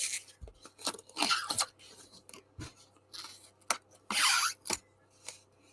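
Foam-handled craft scissors snip through a photo in short, crisp cuts, several quick clips and rustles with pauses between, close and quiet.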